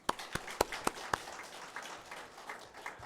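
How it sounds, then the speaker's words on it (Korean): A church congregation gives a short round of applause: several sharp, evenly spaced loud claps, then a softer, scattered patter that trails off, fairly quiet overall. "다시 한번 우리 하나님께 영광의 박수 올립니다."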